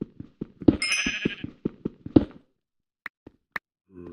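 Sheep in Minecraft being hit in a blocky game world: a bleat rings out among a series of soft thuds and footsteps, followed by a few scattered clicks and a short second bleat-like burst.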